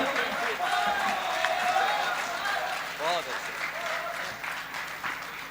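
An audience at a Jain community kavi sammelan applauds after a poetry recitation. The clapping is dense and sustained throughout, with a host's voice and a few brief tonal calls heard over it.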